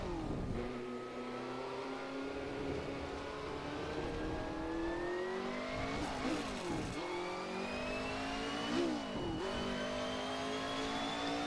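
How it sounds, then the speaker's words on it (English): A Ford V8 in a Jordan 191 Formula One car, in a racing video game, pulls away and revs up through the gears. Steady rising engine tones climb with each gear, broken by brief dips at the shifts, loud and close throughout. "that Ford V8 making a very nice noise"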